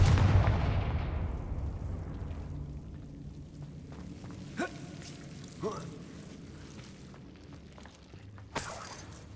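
Confringo fire spell cast in Hogwarts Legacy, heard as a few sharp blasting bursts around the middle and end, set over a low rumbling game ambience that fades from a louder start, with a voice present.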